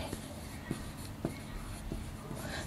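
Marker or chalk writing on a classroom board during a chemistry lesson on alkyl groups, with faint, brief scratchy strokes spaced irregularly over steady room hum and no talking.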